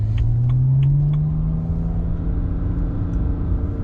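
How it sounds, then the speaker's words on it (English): A street car with a drag-tuned transmission, driven in manual mode at a track, accelerates at wide open throttle, its engine note rising loud and rumbling, then settling into a steady drone. "this is gonna be sort of a wide open throttle acceleration"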